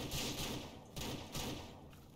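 A few heavy gunshots in the video game Ranch Simulator, fired at a bear, in quick bursts, loud and booming, spaced about a second apart in a dense rumbling mix.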